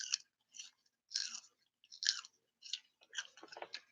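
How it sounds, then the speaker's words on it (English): Raw sugar snap peas are bitten and chewed in a string of six or seven sharp, wet crunches spaced about half a second apart, very close with quiet gaps between them. "listen to that. You hear how crunchy they are?"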